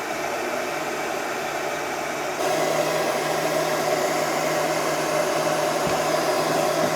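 A heat gun blows steadily on a dented push-in car bumper, making a close, even hiss and whir that steps up a little in loudness partway through and then holds steady.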